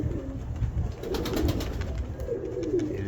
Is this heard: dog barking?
no